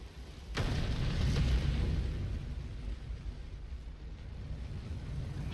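An explosion in the video game Darksiders 2 sets off a sharp burst and then a sustained, rumbling roar that slowly tapers into a steady low background.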